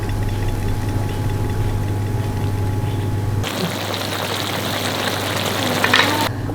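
Gurame fish in a sweet-sour spicy sauce sizzles in a wok as it is stirred, a steady frying hiss that sharpens and brightens partway through, over a low constant hum.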